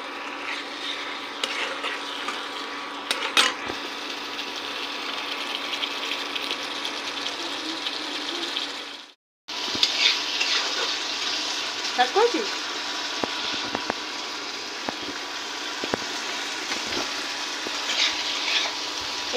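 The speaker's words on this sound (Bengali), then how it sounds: "এই মশলাটা পুরো কষানো হয়ে গেছে, মশলাটা পুরো জল ঢেলে দিলাম।" Fish curry spice paste sizzles in a pan after water is poured in, a steady close hiss and crackle running almost throughout, broken by one brief silent gap midway.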